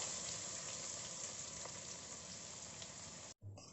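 Finely chopped onion with cumin sizzles steadily in hot mustard oil, a dense, even frying hiss close by that cuts off abruptly near the end.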